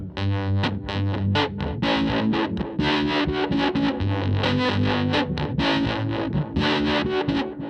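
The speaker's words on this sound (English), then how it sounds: "I have the fuzz going into the delay, obviously, you know, going into the Echo Nugget, then the Quicksilver, and then I add a vibrato to give it kind of like a Leslie organ sound" An electric guitar plays through fuzz, an Echo Nugget delay, a Quicksilver and a vibrato pedal, giving a loud, thick, distorted tone with warbling, organ-like shimmer and repeated strummed chords that sustain continuously.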